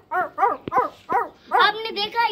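A voice imitates a dog barking: a quick run of five or six yapping, bow-wow barks close up, ending in a drawn-out whining yelp.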